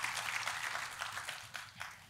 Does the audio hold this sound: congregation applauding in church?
yes